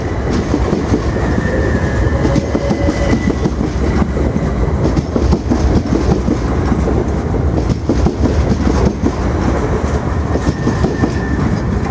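Two Class 377 electric multiple units, 377-518 and 377-520, pull out of Brighton station with steady loud rolling, clickety-clack over rail joints and occasional faint wheel squeal, close by and continuous with no talk.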